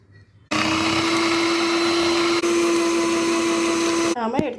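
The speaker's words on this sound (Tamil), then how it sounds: "நம்மளோட பீட்டரை வச்சு நல்லா பீட் பண்ணியாச்சு" An electric beater whisks brownie cake batter as milk is added, a steady loud mechanical whine holding an even pitch for about four seconds before cutting off abruptly.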